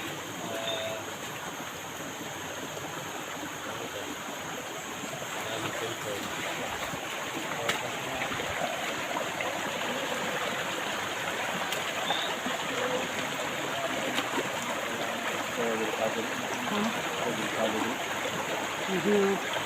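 A creek flows with a steady, broad rushing hiss while someone walks along it, the water sound constant and moderately loud throughout, with faint talk underneath.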